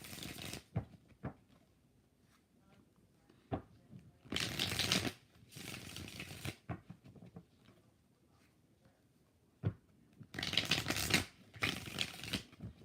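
Quiet room with a few light taps and two bursts of tarot card shuffling, the second longer, riffling crisp and close.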